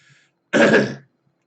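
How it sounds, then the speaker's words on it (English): A single short, gravelly throat clearing, close and distinct, surrounded by near silence. "Sorry I'm having to clear my throat so much"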